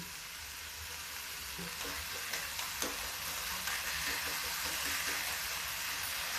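Onion masala sizzles and fries in a little oil in a pan, a steady close hiss with faint stirring clicks throughout, no voices.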